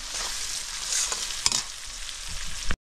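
Onions and tomatoes fry in a pan while being stirred, a bright continuous sizzle close by with scraping strokes of a spoon and a few sharp clicks, no voices.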